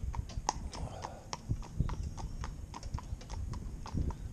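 Hooves of Candy, a cob horse pulling a cart on a paved road, clip-clopping in a steady, close rhythm with light low rumble underneath and no talking.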